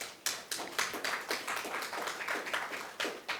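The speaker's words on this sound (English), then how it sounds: "Can you give him a round of applause?" A scattered round of applause from a small audience welcoming the Taiwanese facilitator at a wood sculpting ceremony in St. Lucia, with distinct, fairly sparse claps arriving in uneven bursts.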